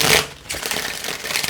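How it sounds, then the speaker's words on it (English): A quick riffle of cards shuffling, a dense papery burst followed by a softer, steady flutter, close and fairly loud. "All right, last shuffle here."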